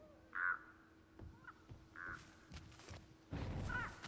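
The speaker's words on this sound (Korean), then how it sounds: "왜 까마귀가 울죠?" Crows cawing in the video game Dead by Daylight, a few separate harsh caws spaced apart, with soft thumps in between and a louder burst of noise near the end, all fairly quiet.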